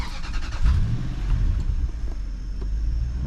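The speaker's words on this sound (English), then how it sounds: "I'm gonna turn the car on." A Toyota Sequoia in a dark back alley turns over and settles into a steady, low idle, with a deep engine rumble close by and a brief rise at the start.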